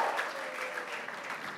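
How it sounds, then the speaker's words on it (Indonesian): A church crowd cheering and applauding for Jesus, a dense wash of clapping and whoops filling the short moment evenly. "Berikan sorak-sorai paling dahsyat buat Yesus Tuhan dong"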